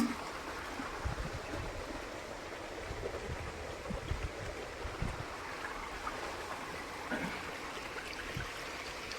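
Water splashes and gurgles as a spray barrel is rinsed out on a farm before it is refilled to spray coriander, giving a continuous rushing wash with scattered louder sloshes.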